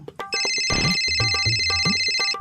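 A telephone rings with a steady, bright electronic ringtone, loud and close, repeating continuously through the moment while low thumps and faint household noise sit underneath.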